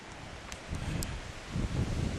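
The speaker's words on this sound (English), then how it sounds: "it's blowing 25 to 30 mile an hour sustained" Strong wind of 25 to 30 mph sustained gusts through trees, a dense continuous rush and rustle of leaves with swelling gusts, fairly faint and distant.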